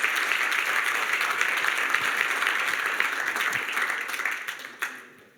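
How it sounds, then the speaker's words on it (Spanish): Loud applause from a church congregation during worship, thick continuous clapping that holds steady, then trails off and fades at the end. "le hace aplauso fuerte"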